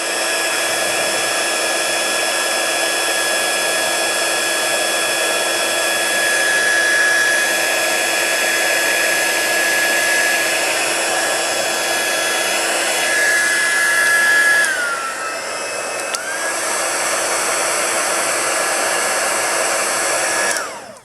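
A heat tool blows steadily at close range while embossing powder is melted on a Christmas card, a continuous loud whir with a brief dip in pitch near the end.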